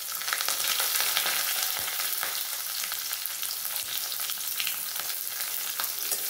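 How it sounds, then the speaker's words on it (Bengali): Slit green chillies fry in hot oil in a pan, a dense close sizzle with crackling spits and light stirring scrapes, continuous and fairly loud with no voices. "এটা একটু ভেজে নেবো। দিয়ে দেবো চেরা কাঁচা লঙ্কাগুলো।"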